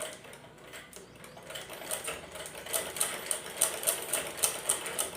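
A sewing machine stitches layered fabric along the edge: a soft mechanical hum at first, then a close run of quick, evenly spaced needle ticks that grows louder and more distinct toward the end.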